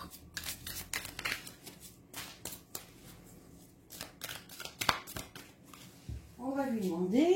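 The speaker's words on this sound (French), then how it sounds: "il faut vraiment que je brasse bien, hein, parce que je les avais remis dans l'ordre, les cartes" Tarot cards are shuffled by hand close up in a series of quick papery riffles and slaps, with a voice starting to talk over the last second.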